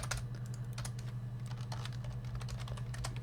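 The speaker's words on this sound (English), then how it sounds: "I'm typing in the wrong thing." Rapid typing on a computer keyboard clatters in an uneven run of close, crisp keystrokes over a steady low electrical hum, with no voices.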